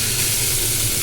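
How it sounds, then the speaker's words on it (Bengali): Fish dropped into hot cooking oil on a gas stove sizzles with a loud, steady hiss close up, dense and continuous throughout, no voices over it. "এখন মাছগুলো দিয়ে দিই।"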